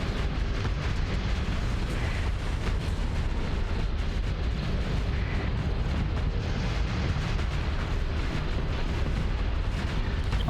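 Ion cannons fire and explosions burst during a space battle in the video game Starsector, a loud continuous rumble of booms and crackling blasts layered densely for the whole stretch, with no talking.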